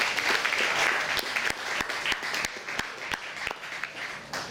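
A bagpipe competition audience gives a round of applause for piper Fred Morrison, a loud, close clapping crowd with individual sharp claps punctuating the steady patter throughout.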